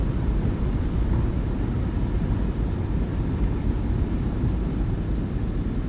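A PMDG 737-700 roars under reverse thrust just after touchdown in the MSFS 2024 flight simulator, giving a loud, steady jet rumble that holds constant from start to finish.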